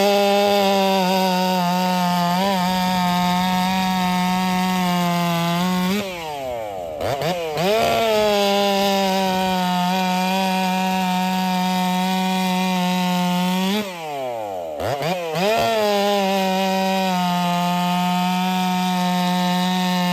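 A chainsaw fitted with a freshly sharpened Husqvarna C83 chain revs loudly close by and bogs down twice as it makes test cuts through wood. Between the cuts it holds a high, steady whine.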